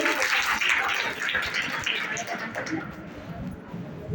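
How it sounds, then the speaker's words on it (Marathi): An audience at a Holi festival gathering in a Maharashtra village claps to welcome a guest, a fairly loud burst of clapping that gradually thins out over several seconds. "टाळ्या वाजवून स्वागत करावे"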